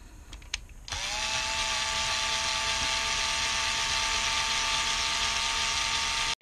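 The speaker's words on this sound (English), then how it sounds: "So this is a cordless screwdriver." A few light clicks, then a cordless screwdriver drilling out rivets on a planner whirs into a steady, loud high-pitched drone for several seconds before cutting off abruptly.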